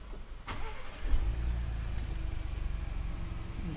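A 2025 Ford Bronco Badlands engine cranks briefly and catches, then settles into a steady, rumbling idle heard from the driver's seat.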